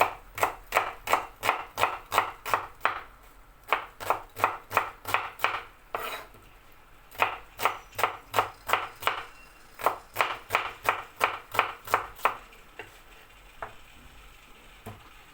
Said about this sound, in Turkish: Ben öbür malzemelerimi doğrayayım